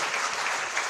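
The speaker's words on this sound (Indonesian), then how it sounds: "Tepuk tangan buat dia." A church congregation at a Sunday evening service claps in a short, dense, even burst of applause with no break.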